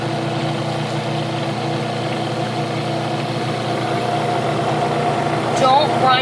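A grinder whirls already finely ground almonds for marzipan, a steady droning motor hum under a person talking throughout.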